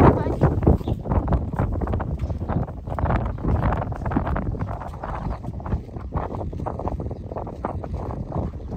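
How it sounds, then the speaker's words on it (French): Heavy wind roars and gusts against the microphone in uneven bursts, steady and loud from start to finish. "il y a vraiment beaucoup de vent"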